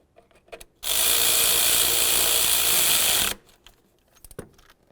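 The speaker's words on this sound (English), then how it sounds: "Tighten the bottom bolt." A power tool tightens a bolt on the upper intake of a Dodge Journey: a loud, steady mechanical whir runs for about two and a half seconds, with faint clicks and handling noises before and after.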